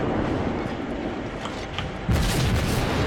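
Naval gunfire in the warship game World of Warships sounds as a continuous rumbling roar of battle, with a heavier, louder boom of salvo fire breaking in near the end, and no talk.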